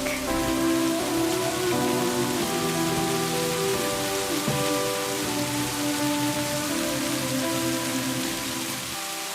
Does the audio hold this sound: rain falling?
yes